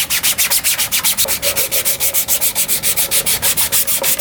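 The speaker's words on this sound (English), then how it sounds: "scraping the sandpaper against these created a very similar scratching sound to that of like a vinyl record" Sandpaper rubs rhythmically over 3D-printed plastic armor pieces in quick, even back-and-forth strokes, a loud, close, raspy scratching repeated about eight times per second with no voices.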